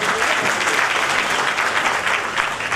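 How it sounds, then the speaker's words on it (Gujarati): Loud, dense applause from a seated audience for the guests at a motivational speech event, steady and sustained for the whole stretch with no talk over it. "એકવાર આપણા બધા જ ગેસ્ટ માટે જોરદાર તાળીઓ આપજો"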